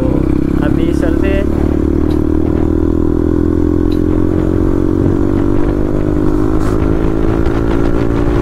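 An NS 200 motorcycle's exhaust drones loudly and steadily close by while riding, with a slowly rising engine note and some rattling clatter, as someone talks over it.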